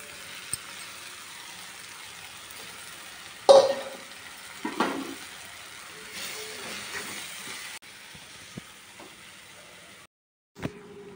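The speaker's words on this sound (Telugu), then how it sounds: "దీంట్లో ఇప్పుడు ఈ బొరుగులు వేసేద్దాం అన్నమాట" Puffed rice is tipped into a pan of fried tomato, onion and green chilli for an upma, giving a faint, soft sizzle and hiss broken by a few scraping stirs and clinks.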